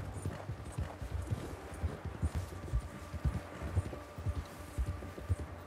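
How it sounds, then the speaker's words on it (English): Horse hooves beat on the ground in the video game Red Dead Redemption 2, a steady rhythmic clip-clop of a galloping or trotting mount heard up close over quiet ambient game sound. "Kind of nervous about, like, overworking the horse."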